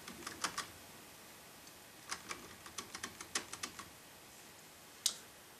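Keyboard keys tapped in short irregular bursts while playing Space Invaders, arrow keys and the space bar clicking crisply, with several quick presses clustered together and one sharper hit near the end, no talking over it.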